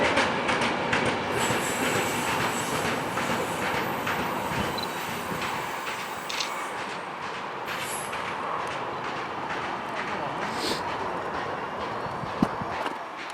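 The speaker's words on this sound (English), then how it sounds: "Well, there's the end of this train." A train runs along the South Wales Main Line at Severn Tunnel Junction, loud and close. Its wheels clatter and rumble continuously, with occasional squeals, and the sound stays steady throughout with no talk.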